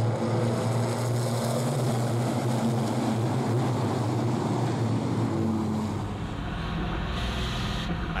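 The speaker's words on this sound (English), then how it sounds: "the acceleration of the Iveco is impressive" An Iveco racing truck on the Jarama circuit accelerates hard, its engine a dense, sustained roar that eases slightly toward the end, heard from close by.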